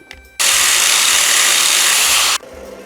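Angle grinder with a 4.5-inch cutting wheel cutting through a 1979 Dodge van steering shaft, a loud, steady high-pitched whine of steel on abrasive lasting about two seconds, close up, with quieter shop noise before and after.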